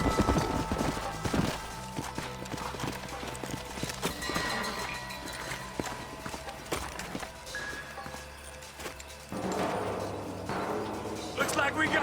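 Horses' hooves clip-clop in the Red Dead Redemption video game, a steady trotting beat that slows toward the end, with a whinny and voices talking over it.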